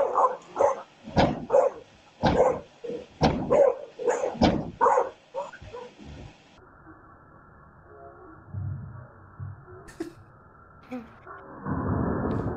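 A dog barks repeatedly in sharp, loud bursts over the first half, then things go quieter with faint rustling and a low murmur.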